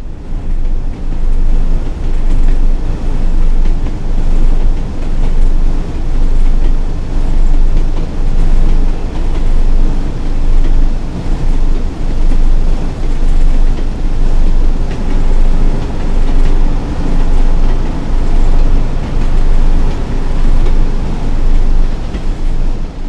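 A Class 101 diesel train in Train Sim World 2020 rumbles loudly and continuously while braking, with a rhythmic clatter of wheels beneath a heavy low roar.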